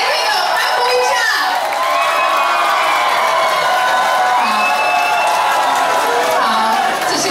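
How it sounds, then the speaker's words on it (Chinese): White team members cheer together at a staged contest, a loud continuous wall of shouts, whoops and high excited voices filling a hall. "来，白队友欢呼一下。"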